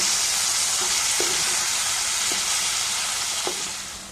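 Okra fries in a pan with an even, close sizzling hiss throughout, broken by a few faint knocks of stirring, tapering slightly at the end.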